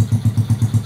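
A small motorcycle engine with a modified carburetor and exhaust idles while cold, putting out a steady, even run of close, loud low thumps about seven times a second.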